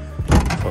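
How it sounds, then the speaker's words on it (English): A 2007 Honda CR-V rear trunk hatch with worn support struts drops shut in one heavy, close thud over low background noise. "When you open your trunk, it does this. So yeah, it just slams down."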